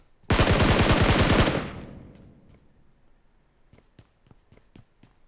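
A loud burst of rapid automatic gunfire in PUBG Mobile rattles for over a second, then fades into a string of quieter, scattered single shots further off.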